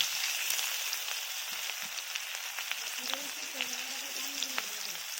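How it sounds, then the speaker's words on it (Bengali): Onions sizzling in leftover fish-frying oil in a home kitchen, a steady dense crackle and hiss with small pops throughout, close and moderately loud. "ওই মাছ ভাজার তেলে আমি এবারে পেঁয়াজগুলো ছেড়ে দিচ্ছি।"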